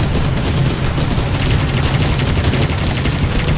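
Heavy sustained gunfire aimed at a large enemy in an aerial combat game, a loud, dense rattle of rapid shots pounding on without pause.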